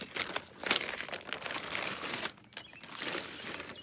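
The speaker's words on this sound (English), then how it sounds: "I'm going to go ahead and use my scissors and just cut this bag off" Scissors cut open a plastic bag of garden soil: a dense, continuous crinkling and rustling of plastic, close and fairly quiet, with a few sharper snips and tears along the way.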